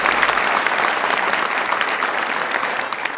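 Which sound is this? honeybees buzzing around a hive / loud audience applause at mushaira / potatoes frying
loud audience applause at mushaira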